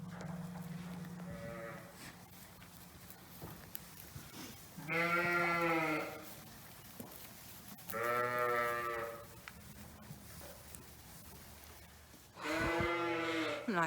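Newly arrived ewes bleat on a farm in three loud, drawn-out calls spaced a few seconds apart, with quieter farm background and a faint earlier bleat between them.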